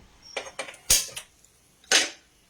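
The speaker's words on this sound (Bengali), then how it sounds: "গ্যাসটা আমি আগে জ্বালিয়ে নিচ্ছি" A home kitchen gas stove is lit for cooking besan paneer chilla: a few sharp, close clicks followed by two short bursts of hissing flame, with quiet pauses between and no talk.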